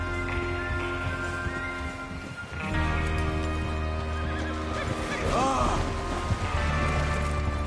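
A horse whinnies loudly partway through in the video game Red Dead Redemption 2, over steady background music and some clopping and movement noise.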